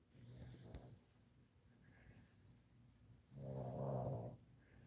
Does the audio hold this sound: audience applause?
no